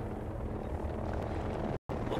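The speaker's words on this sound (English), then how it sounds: "Kip spotted an enemy chopper." An enemy helicopter in Ghost Recon Breakpoint hovers with a steady low rotor drone, fairly faint and constant, briefly cut to silence near the end.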